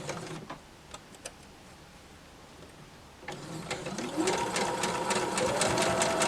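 A home sewing machine, just cleared of a thread jam, starts up after a few clicks and a quiet pause, then runs steadily with a close, rapid mechanical stitching rhythm that grows louder.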